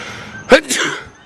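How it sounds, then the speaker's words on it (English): A single short, sharp sneeze bursts out, followed by a brief breathy voiced tail, close to the listener in a quiet room. "If it was a fuck you sneeze"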